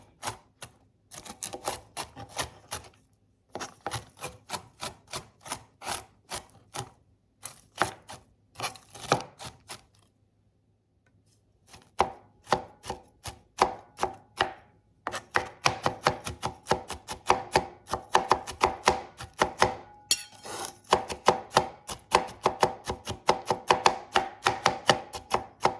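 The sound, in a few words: knife chopping walnuts finely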